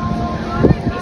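Strong wind blows at the beach as a steady, loud, rushing roar buffeting the microphone, with a brief voice in the middle.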